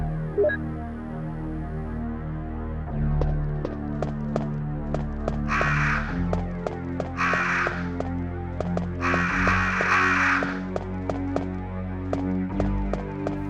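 Crows caw in three raspy bursts amid the eerie ambience of the Resident Evil video game, backed by a low droning, throbbing soundtrack and steady ticking clicks.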